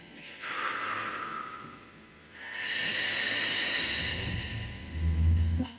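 Slow, gentle breaths during a gentle winter yoga session, with a soft airy inhale and a longer hissing exhale, followed by a low, close breath near the end, heard on their own without talk.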